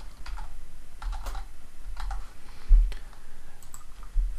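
Typing on a computer keyboard while entering quiz answers, a run of soft, close key clicks in an uneven rhythm with occasional louder taps, with no voices.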